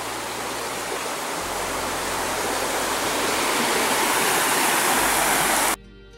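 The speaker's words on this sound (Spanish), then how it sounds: "Y mira el agua de allá, cómo se sale de la tierra de otro color." Water gushes steadily out of the ground near Tingo María's Cueva de las lechuzas, a loud, dense rushing roar that holds constant and then drops abruptly near the end.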